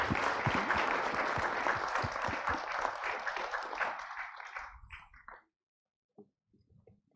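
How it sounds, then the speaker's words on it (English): Applause from a summit audience for a group of panelists on stage, loud dense clapping for about five seconds that thins out and fades, with a few scattered late claps afterward. "We can give them all a big round of applause."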